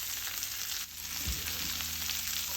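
Butterflied shrimp sautéing in a pan over medium heat, giving a steady, soft sizzle that runs unbroken, with a brief low thump near the middle and no voices.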